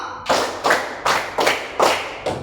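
A group claps in unison during a school physical education lesson: five loud, evenly spaced claps about a third of a second apart, close by and with no talk over them.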